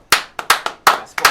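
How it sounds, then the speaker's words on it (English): Several quick hand claps in an uneven burst, about six sharp, close slaps within a second and a half. "West Indies, we gotta get him a clap,"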